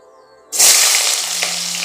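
Chopped onion drops into hot oil in a home kitchen pan, bursting into a loud, steady sizzle that starts abruptly and keeps hissing evenly close to the microphone.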